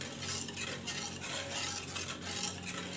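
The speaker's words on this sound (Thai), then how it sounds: "วิธีกวนวุ่นเนาะค่ะกวนไปทางเดียวกันแบบนี้เด้อจ้า" Lemongrass pandan jelly mixture being stirred in a pot over medium heat, a continuous scraping, swishing churn with faint sizzle, steady and close.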